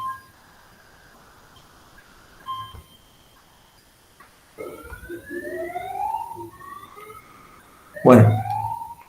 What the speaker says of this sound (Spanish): hay Bien. una alarma atrás, no sé si... Sí, es mi querido vecino que no se le ha saltado la alarma